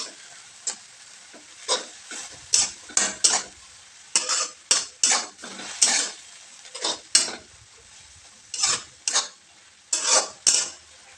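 Dry methi bhaji with garam masala is stirred and sautéed in a pan: a close series of sharp, scraping spatula strokes comes in uneven bursts, about fifteen in all, with near silence between them.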